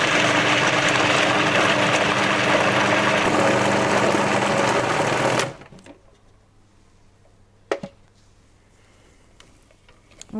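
A Magimix food processor runs continuously at full power for about five seconds, blending cream poured over white chocolate into a ganache, then switches off abruptly, leaving a quiet room with a single clunk.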